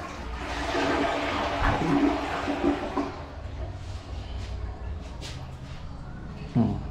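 A toilet flushes in a beach resort restroom, a strong rushing gush of water that fades to a gurgle before a brief thump; a voice talks faintly underneath.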